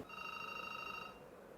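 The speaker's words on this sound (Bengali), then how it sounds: "ফোন রিসিভ করো" A telephone rings indoors in a domestic drama scene, a single steady electronic trill lasting about a second before cutting off, fairly faint with a quiet room behind it and no talking.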